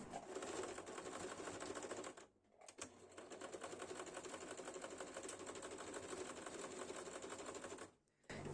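An overlock sewing machine stitches swimsuit fabric, a fast, steady mechanical chatter close by, pausing twice briefly before running on.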